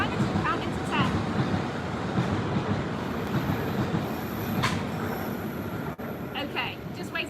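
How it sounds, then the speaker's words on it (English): A train rolls past throughout, a loud, steady rumble with wheel clatter and brief squeals, heard near a sports day practice while children and adults talk over it. "just waiting for the train to go by"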